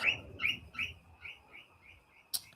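Pet birds in a home aviary chirp in a quick series of bright, repeated tweets that start close and strong, then fade lower over a couple of seconds, ending with one sharp high call.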